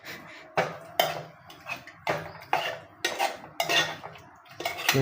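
Chicken curry being stirred in a pot, with repeated loud metallic scrapes and clanks of a spoon against the pot in an uneven rhythm, close and without talk.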